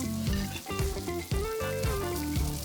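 Meat sizzling on a grill at Korean barbecue, a steady frying crackle running the whole time beneath background music with a clear melody.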